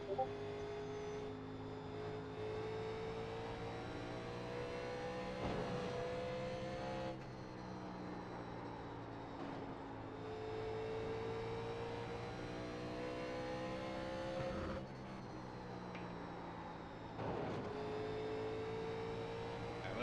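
A 1987-style NASCAR stock car laps Bristol in the iRacing sim, the engine note rising and falling in repeated cycles as it accelerates down straights and lifts into corners, steady and fairly quiet.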